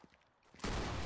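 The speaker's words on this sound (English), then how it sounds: "Oh, someone's shooting." A short burst of rapid gunfire in the video game Fortnite erupts after a quiet moment and continues loud and dense to the end of the brief clip, with no talking.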